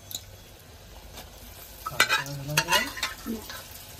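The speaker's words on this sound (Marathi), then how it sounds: "आपण यामध्ये आता छान मस्त पीस टाकून घेणार आहोत." Cooked mutton pieces added to a pot over a wood-fired chulha and stirred, a cluster of scraping, clattering spoon-against-pot strokes with light sizzling, close and moderately loud after a quiet start.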